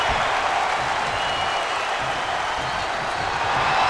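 A wrestling arena crowd in WWE 2K22 keeps up a dense, even roar of applause and cheering for the whole span, with no pauses.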